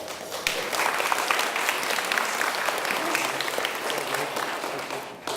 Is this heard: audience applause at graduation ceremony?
yes